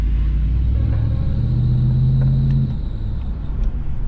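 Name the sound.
pickup truck belt squealing, likely a failing tension pulley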